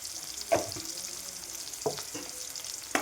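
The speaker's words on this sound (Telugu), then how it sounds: "ఇవంతా బాగా వేగుతున్నాయి కదా" Brinjal pieces frying with turmeric in a pan, a steady hissing sizzle broken by a few sharp spatula scrapes and stirring knocks, close and moderately loud, with no one speaking.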